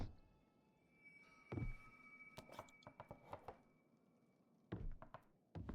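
Knocking on silver frames in a video game puzzle: a series of hollow knocks and thunks, some in quick clusters, over faint steady background hum and tones.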